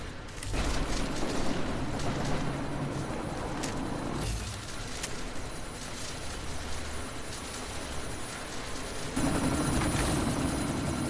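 Helicopter rumble from the video game Deus Ex: Mankind Divided, a steady loud drone mixed with bursts of gunfire across an intense combat scene.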